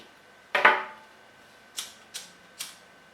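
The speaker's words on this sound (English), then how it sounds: "Cut diagonally across" Scissors snip diagonally across a length of ribbon while a flower hair bow is being made: one firm close cut followed by three lighter, evenly spaced snips, crisp and near in a quiet room.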